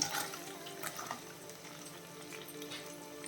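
Chopped onions and green chillies tumble into a hot pan for pepper chicken, giving a steady watery sizzle with a few sharp crackles near the start, close and moderately loud with no talking.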